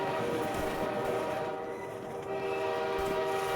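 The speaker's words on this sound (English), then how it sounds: "there's a train passing along here" A train passing in the game Half-Life 2: Lambda Fortress Extended, on Highway 17: a steady rumbling roll of rail cars with a sustained horn tone running through, loud and continuous, with a brief dip midway.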